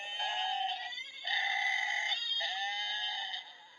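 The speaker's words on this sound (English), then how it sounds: "That was a goat. That was a goat. Screaming." Goats scream in long, loud, piercing bleats, three drawn-out cries in quick succession, close by and heard alone.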